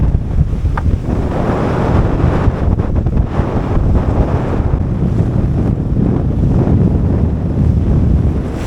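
High wind and short, choppy seas on a fully reefed 21-foot sailboat, with loud continuous wind buffeting the microphone over rushing water and the hull slapping through waves, and no voices.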